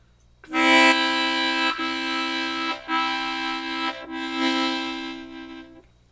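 A harmonica sounds a sustained 1-2-3 hole blow chord, broken into four connected pulses by ta, da, ka, ga tongue articulations, with no voices.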